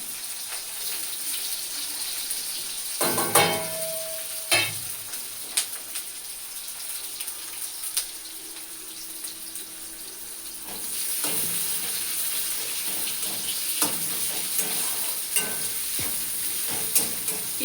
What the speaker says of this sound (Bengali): পেঁয়াজ দেওয়ার সময় অবস্থাটা দেখো পুরো মানে ছিটকে তেলগুলো পুরো মুখের উপর চলে আসে